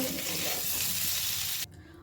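Loud sizzling of potatoes frying in hot oil with stirring, which cuts off abruptly near the end.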